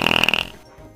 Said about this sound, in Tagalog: Sino ang pinakamalakas umutot?